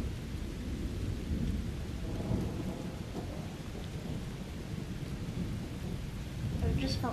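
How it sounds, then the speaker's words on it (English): Thunder rumbles low and continuous through a lightning storm, mixed with steady rain falling on surfaces, with a deeper swell of rumbling toward the end. "It was thunder."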